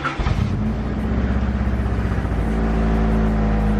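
A car engine cranks and catches, then settles into a fast, throbbing idle that rises slightly as it revs, close and fairly loud.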